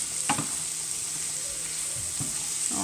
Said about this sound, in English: the black oyster mushrooms, and I'm just gonna saute this for a little bit